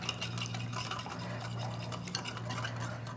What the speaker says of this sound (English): we're just going to mix this together.